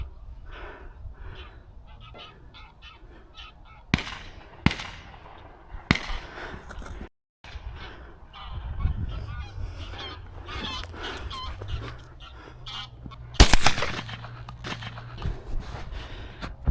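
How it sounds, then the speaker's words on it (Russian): Scattered goose honks over outdoor background during a goose hunt in Germany, with a sharp loud gunshot cracking near the end and several other sharp bangs earlier. "Одиночным выстрелом Сергей добыл первого гуся"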